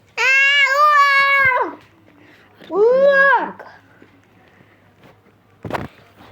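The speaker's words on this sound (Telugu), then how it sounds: "కిట్టి క్యాట్ అంట." A cat meows in the Roblox game Natural Disaster Survival: two drawn-out, pitch-bending meows a second apart, followed later by a short thump.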